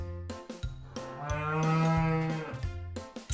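A cow gives a loud, close moo, a long sustained low bellow that swells in the middle and tapers off, heard alone.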